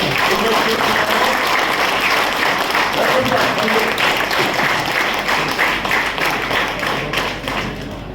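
An audience claps loudly and continuously to welcome a speaker at a real estate event, a dense close applause that holds steady and begins to taper near the end.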